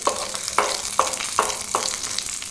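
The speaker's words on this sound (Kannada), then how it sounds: "ನಮಗೆ ಈ ಡ್ರೈ ಫ್ರೂಟ್ ಸ್ವಲ್ಪ ರೆಡ್ ಆಗೋವರೆಗೂ ಹುರ್ಕೊಳ್ಬೇಕು" Dry fruits frying in a pan until reddish for payasam, a close crackling sizzle broken by five evenly spaced metallic taps or scrapes of a spoon against the pan.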